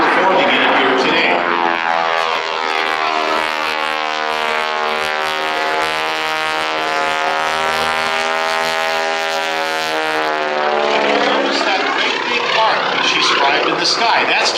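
The loud radial engine of a Boeing-Stearman PT-17 Kaydet biplane drones steadily overhead during aerobatics, its pitch sweeping as the plane maneuvers, with a voice talking over it.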